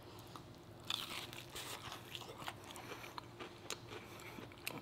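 Crunchy bites and chewing of homemade Popeyes-style fried chicken topped with gravy, close and moderately quiet, a few crisp crunches over a steady low background with no talking.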